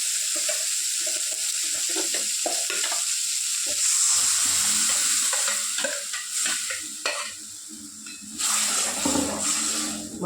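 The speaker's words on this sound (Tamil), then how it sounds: "இந்த காயை வணக்கணும் எண்ணெயில்." Vegetables sautéing in hot oil with tomato added, a continuous close sizzle broken by frequent scraping and stirring sounds, no voices.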